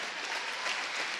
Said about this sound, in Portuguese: se quiser puxar as palmas, pode puxar também